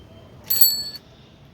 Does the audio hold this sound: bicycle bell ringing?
yes